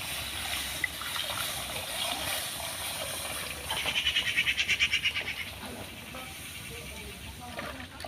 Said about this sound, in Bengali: এবারে দুধটা জাল করার জন্য কড়াতে দিয়ে দেবো